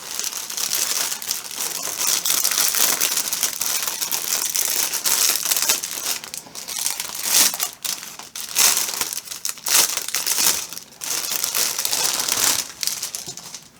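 Plastic packaging of a cross-stitch kit crinkles and crumples continuously as it is opened, with close, busy rustling throughout and no talk.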